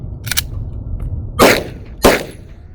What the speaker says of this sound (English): We about to go ahead and shoot this Glock 17 Gen 4.